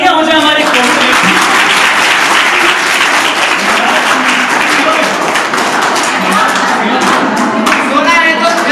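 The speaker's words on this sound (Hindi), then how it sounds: "जोरदार तालियां हो जाए" Loud, dense audience applause in a hall during a special radio program on COVID vaccines, continuous and steady throughout, with voices faintly audible under the clapping.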